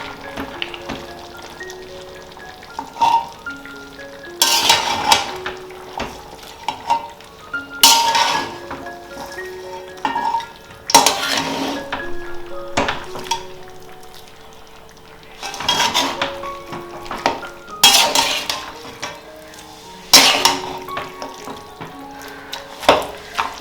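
A metal spoon stirs and mashes beef bone kappa biryani, made with cassava, beef bones, curry leaves and coriander, in a pan. Repeated clinks and scrapes come in bursts, close and fairly loud, with no talking.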